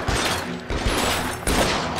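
Gunfire from the video game LA Noire comes as a dense, loud volley of overlapping shots with heavy booming impacts, swelling in several waves over two seconds without any speech.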